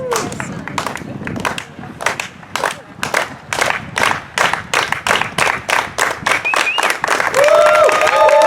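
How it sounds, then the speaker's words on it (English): At a mayoral campaign kickoff rally, a crowd performs a unity clap: sharp unison claps that start slow and spaced, then speed up into a rapid accelerating run ending in cheering and whistles. "Got a unity clap."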